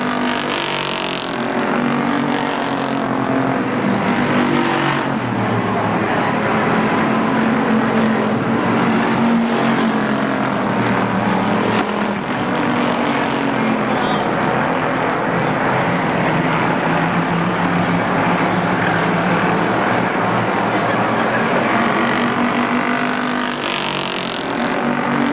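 Race cars roar around Motordrome Speedway in 2003, a continuous loud engine drone that rises and falls slightly as the pack circles the track, with no voices.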